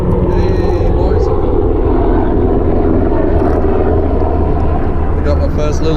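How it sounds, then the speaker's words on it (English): A helicopter drones steadily with a low, continuous rotor rumble over mangroves at the water's edge, loud and unbroken throughout. "I was just basically admiring the helicopter"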